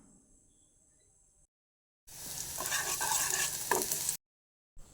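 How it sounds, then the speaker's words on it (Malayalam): Chopped shallots and fenugreek sizzle in hot oil in a pan while being stirred, a bright, close frying hiss lasting about two seconds between stretches of near silence. "ഇനി ഇതൊരു ബ്രൗൺ കളർ ആവുന്നവരെ നമുക്കിതൊന്ന് വഴറ്റിയെടുക്കാം"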